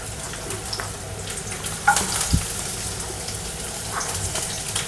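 Finely chopped garlic fries in a spoonful of oil over a high flame, a steady close hiss and crackle with a few sharper pops partway through.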